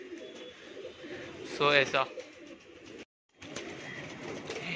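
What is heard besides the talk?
pigeons cooing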